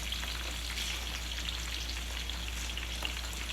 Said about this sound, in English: it's been cooking for about a minute or so with the garlic